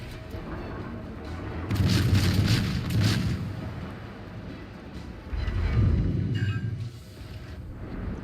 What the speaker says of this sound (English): King George firing HE.